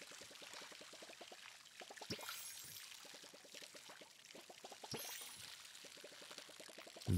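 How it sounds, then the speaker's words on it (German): Plants get watered in the video game Palia, with soft pouring and splashing game effects repeating in quick rhythmic trickles, broken by a couple of brighter sweeping splashes, all faint and with no talking. "Ich muss aber erstmal gießen"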